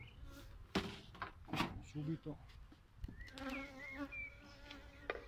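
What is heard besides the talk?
nervous honey bees buzzing around the hive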